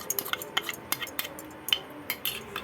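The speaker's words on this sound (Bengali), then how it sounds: "আর এই দুটো বাটিকে ধুয়ে অল্প একটু আমি জল দিয়ে দেব।" Two small bowls are handled and rinsed with a little water while cooking shahi paneer, giving a quick, irregular run of bright clinks and taps of dishware, close and fairly quiet.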